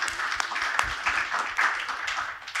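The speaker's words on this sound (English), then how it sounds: "Round of applause." An audience at a community institute event claps in a round of applause, a moderately loud, slightly uneven patter with sharper bursts of hands.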